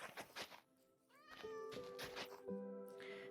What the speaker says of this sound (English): Look, the cat is trying out the new path.